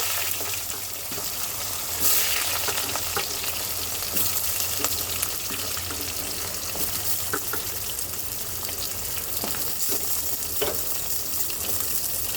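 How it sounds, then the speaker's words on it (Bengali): Cumin seeds and a bay leaf fry lightly in oil with a constant, close hiss of sizzling, broken now and then by faint scrapes and clicks of a spoon. "এবার জিরা আর তেজপাতাটাকে একটু হালকা ভেজে নেব"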